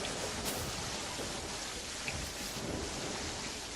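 Steady rain and rumbling thunder in Terraria, a dense continuous hiss of falling rain at even loudness with a few faint swells, and no talk.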